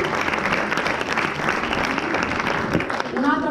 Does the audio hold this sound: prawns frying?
no